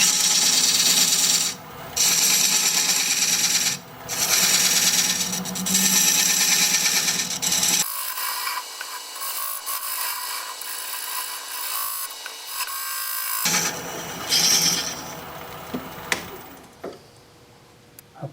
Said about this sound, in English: I'm going to use my recess tool to put a dovetail over here